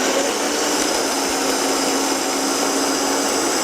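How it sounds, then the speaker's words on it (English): A blender running at full speed, whirring pineapple and rose water into a drink, a loud, steady, close motor roar that holds without a break. "we are ready to put the lid on this blender again"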